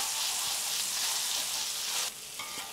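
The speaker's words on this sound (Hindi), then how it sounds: "इसमें प्याज भी रस्ते की तरह फ्राई हो रही है" Onion and tomato fry in a pan as the base of a chicken tikka masala gravy. A loud, steady sizzle sounds close by, with soft stirring scrapes, then drops to a quieter hiss near the end. No talking.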